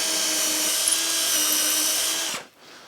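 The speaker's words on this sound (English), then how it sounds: "I'm now going to drill the 3mm pilot down into the oak" A power drill whines steadily at high speed, boring a 3mm pilot hole into oak, close and loud, for over two seconds, then cuts off abruptly and spins down into quiet.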